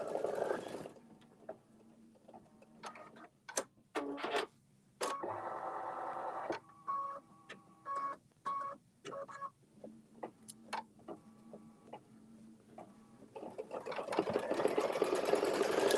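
An embroidery-style sewing machine on a fabric frame stitches to tack down a ribbon, giving short bursts of rapid mechanical whirring separated by brief pauses, close and steady, with no talking.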